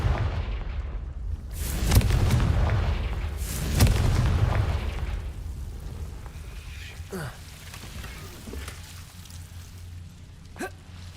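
Confringo spell explosions in Hogwarts Legacy: two heavy booming blasts roughly two seconds apart, each trailing into a rumbling decay, followed by fainter scattered cracks over a steady rain-like hiss.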